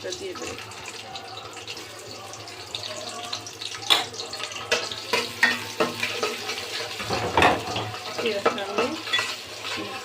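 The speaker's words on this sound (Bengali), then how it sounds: "বাদামি কালার করে ভেজে নেব" Sliced onion fries in hot oil in a pot, giving a bright sizzle with clattering stirs and scrapes of a utensil that grow busier and louder toward the end, while a voice talks faintly at times.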